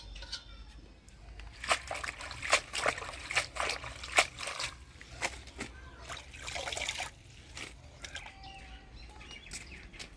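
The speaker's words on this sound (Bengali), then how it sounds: "এবার পালং শাকগুলা ধুয়ে নিয়ে আসি" Spinach leaves being washed in water, with irregular splashes, sloshes and trickles coming in bursts at close range, a faint bird audible in the background.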